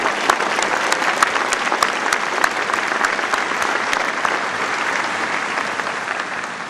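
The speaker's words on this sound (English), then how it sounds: "let's give the band and the chorus another round of applause." Sustained audience applause for a band and chorus at a Memorial Day commemoration ceremony, dense and steady clapping throughout, fairly loud and even, tapering slightly at the end with no talk over it.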